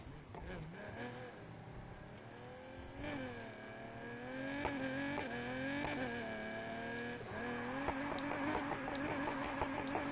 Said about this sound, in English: I actually drifted quite well around that corner, I gotta admit.